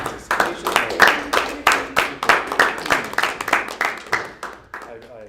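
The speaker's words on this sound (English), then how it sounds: "So if we can give a round of applause to participation." A discussion-session audience applauds with distinct, evenly spaced claps in a fairly regular rhythm, close and clear, gradually thinning and fading toward the end.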